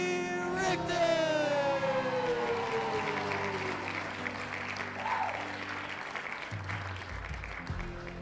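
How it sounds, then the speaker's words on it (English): Wedding guests clap and cheer for the newlyweds. A long falling whoop or whistle rides over the crowd's steady, moderately loud applause, which carries on throughout. "Put your hands in the air clap them as loud as you can"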